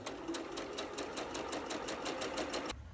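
Sewing machine stitching a quilt seam on an arrows block, a fast even rhythmic chatter of needle strokes, close and steady for nearly three seconds before stopping.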